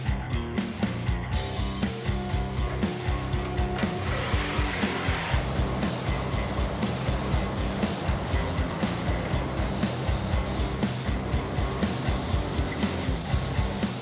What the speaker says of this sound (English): some gloss black engine enamel is reduced down for spraying and is loaded up into the